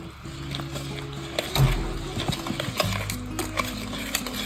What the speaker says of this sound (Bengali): সুন্দর করে এটাকে মিক্স করতে হবে।